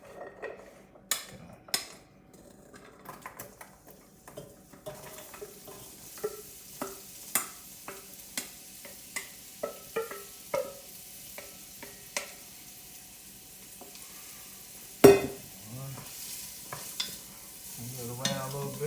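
Celery, carrots and onions sauté in a soup pot, a faint steady sizzle under repeated spoon scrapes and clinks against the pot, with one sharper knock near the end.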